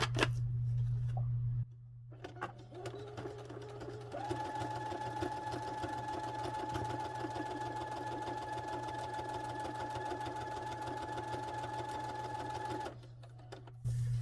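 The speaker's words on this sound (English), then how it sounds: "Yeah, that wasn't the most straight sewing I've ever done." Sewing machine stitching lace onto a pink journal card, a steady close whirring hum that runs for about nine seconds after a brief start, with a quieter pause before it.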